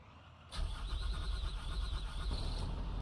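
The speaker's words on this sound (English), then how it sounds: "time to crank up a bus" A school bus engine cranks and catches after a quiet half second, then settles into a deep, steady idling rumble close by.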